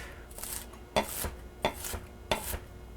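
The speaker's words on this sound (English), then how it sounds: "I'm going to chop these up." A knife chops bean sprouts for egg rolls on a cutting board: several crisp, evenly spaced thuds in a steady rhythm, close and clear over quiet kitchen background.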